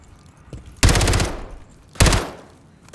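Gunfire in the video game Warzone 3: two loud, sharp bursts of rapid automatic fire, the first longer, each ringing out briefly before fading, with no talking.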